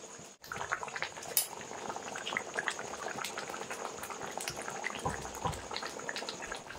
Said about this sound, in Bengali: দেখো মাছ এই কড়াই ভর্তি হয়ে গেছে। তো আমি আর একটু ফুটিয়ে নেব।